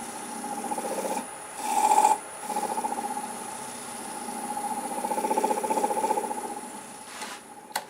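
A catalpa bowl turns on a wood lathe at about 700 RPM in reverse, with a steady whine under the tool. A rasping cutting sound rises and falls in uneven bursts, with brief louder scrapes.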